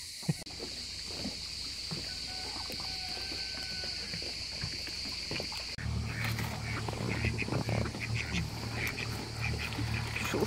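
Ducks quacking at a distance over outdoor ambience, with a low engine-like hum joining partway through.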